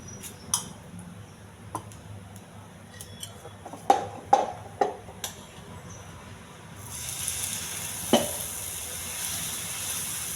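Pesarattu batter frying in oil on a hot pan, soft sizzling broken by sharp ticks and small spattering pops, then a louder, steadier hiss swells in the second half, close by with no talking.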